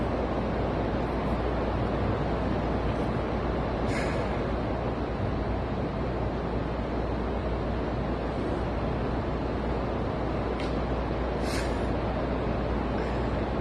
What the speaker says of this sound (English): pouring outside right now